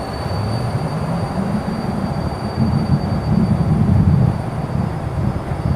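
HondaJet engines run at full throttle during the takeoff roll, a steady, loud, broadband roar heard from inside the cockpit, swelling slightly as speed builds, with no voices.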